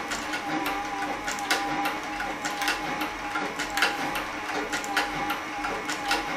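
A Cowboy CB3200 leather sewing machine, a saddle and harness stitcher sewing with nylon thread, runs steadily with a dense mechanical clatter of rapid stitching at close range, with no talking.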